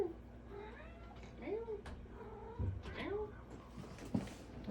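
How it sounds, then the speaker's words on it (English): A pet cat meows several times close by, with short rising and falling cries scattered over a few seconds, while a person talks softly underneath. "Oh, here comes my cat."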